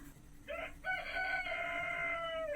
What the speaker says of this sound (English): There's one of my roosters.